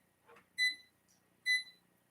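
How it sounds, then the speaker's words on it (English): A kitchen timer being set during home cheesecake baking gives a faint click followed by two short, bright electronic beeps spaced about a second apart, quiet and close in an otherwise silent room. "I'm going to set my timer."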